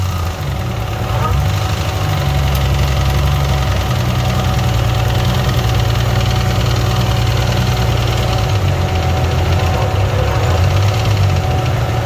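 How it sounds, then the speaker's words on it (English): A damaged Nissan engine runs with a rough, knocking idle, a steady loud low rumble holding throughout with faint background noise. "We've got some very not good noises coming from the motor."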